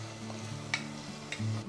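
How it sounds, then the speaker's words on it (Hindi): Onion paste and tomato puree cook in hot oil for a restaurant-style palak paneer base, with a soft steady sizzle and a couple of scraping stirs of the spoon, close and fairly quiet. "टोमेटो प्यूरी को भी अच्छी तरह पका लेना है हमें 1 मिनट तक।"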